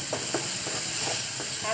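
Raw banana pieces frying with turmeric in a pan, stirred with a few soft scraping strokes over a constant hiss of oil, close by, with no talking.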